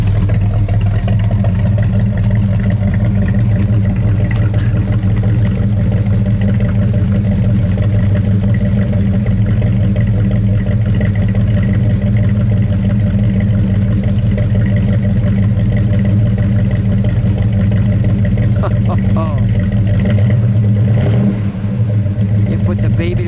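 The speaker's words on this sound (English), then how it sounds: "Go ahead, Dennis, give it a rev" A 1970 Buick GSX with a 455 Stage 1 V8 rumbles at close range, giving a deep, steady, loud idle and rev with low throbbing tone throughout, while people talk over it.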